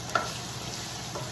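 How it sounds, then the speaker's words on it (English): Potatoes sautéing in a pot give off a steady, close sizzle with a brief clink of stirring near the start, and no voices. "I'm sauteing my potato."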